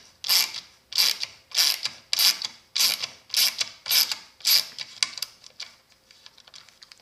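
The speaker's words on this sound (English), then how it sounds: "Or I can work this again like a ratcheting screwdriver." A Craftsman Mach ratchet being worked back and forth like a ratcheting screwdriver, giving about eight evenly spaced bursts of close, crisp clicking that fade into lighter ticks at the end.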